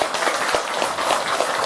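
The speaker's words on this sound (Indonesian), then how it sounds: "Tepuk tangan untuk beliau." A crowd at a public religious gathering claps together for an introduced guest, a short, dense burst of applause that holds steady throughout.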